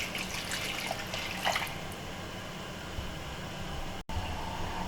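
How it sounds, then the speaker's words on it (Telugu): Water pours into a pot of tamarind rasam with tomato and curry leaves, a steady faint splashing stream running throughout with a brief break near the end, no talking. "వాటర్ వేస్తున్నాను."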